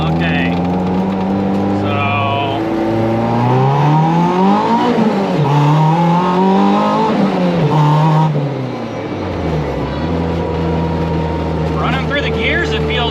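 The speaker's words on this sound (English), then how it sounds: "we're going to do a little acceleration on this road and run through a couple of gears real quick" A car with a BEAMS 3SGE transmission and a JSP FAB reverse lockout shifter accelerates hard along a road, its engine note climbing and dropping through several gear changes, loud and close, with a voice speaking briefly over it.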